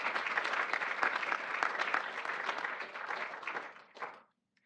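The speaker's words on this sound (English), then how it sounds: "let's give them all another round of applause" Audience at a tech accelerator demo day gives a dense, steady round of applause for several seconds that tapers off and stops abruptly near the end, leaving brief silence.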